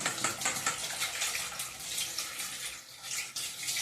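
Tap water runs and splashes while a knife and cutting board used for dried fish are washed, a close, continuous rinse with small clatters and shifts in the flow.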